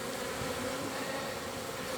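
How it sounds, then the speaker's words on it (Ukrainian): A dense, steady hum of many honeybees flying out on their spring cleansing flight, close and continuous with no voices over it. "Ну і одразу одразу помітна звичайна бджілка"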